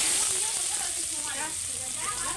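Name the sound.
onions frying in oil in a wok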